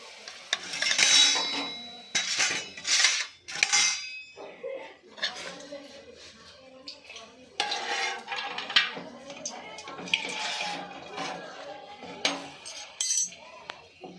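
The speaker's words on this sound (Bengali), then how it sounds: "দেখেছেন সুন্দর ভাজা হয়েছে, একদম কত সুন্দরভাবে ভাজা হচ্ছে।" Cauliflower pakoras frying in hot oil in a pan, a steady sizzle broken by repeated stirring and utensil scrapes over several seconds, with someone talking throughout.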